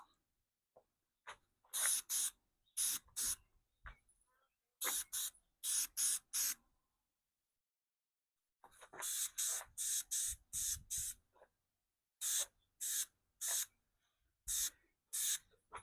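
Lacquer sprayed from a can onto a tube radio cabinet in repeated short hissing bursts, grouped in quick runs with brief pauses between, close and fairly loud with no talking.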